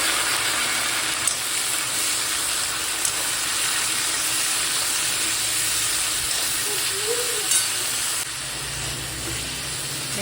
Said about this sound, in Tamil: இப்போ சின்ன வெங்காயம், பூண்டு, கருவேப்பிலை, பச்சை மிளகாய் எல்லாத்தையும் சேர்த்துக்கோங்க.